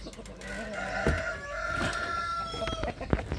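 Laying hens cluck and a rooster crows close by in a farmyard, with repeated clucks and drawn-out crowing calls layered over one another, loud and continuous with no talking.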